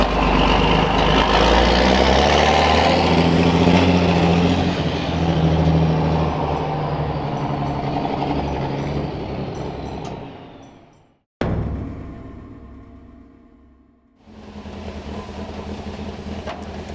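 A truck's diesel engine idles loudly and steadily at close range while the vehicle is being reparked, then cuts out briefly and rumbles back up, with hissing and clattering along the way.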